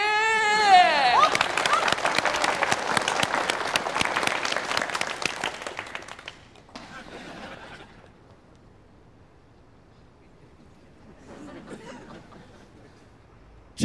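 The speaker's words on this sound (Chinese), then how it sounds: "让我们用热烈的掌声再次欢迎" A studio audience on the Chinese sitcom iPartment 5 claps loudly and steadily for about six seconds before the applause fades out, followed by quieter talk and a brief murmur of voices.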